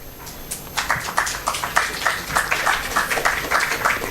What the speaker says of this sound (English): Please do join me in welcoming them with a loud round of applause.